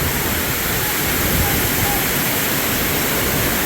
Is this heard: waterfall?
yes